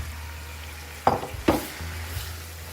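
Spiced marinated chicken drops into a frying onion masala for degi biryani, two sharp sizzling bursts as pieces hit the hot pan and get stirred, over a steady low frying hiss.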